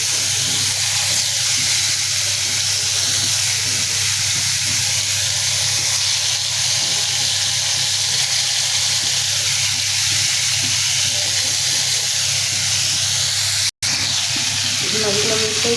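Pangas fish frying in a small amount of oil gives a loud, continuous hiss and sizzle that holds steady for about fifteen seconds, with one brief dropout near the end.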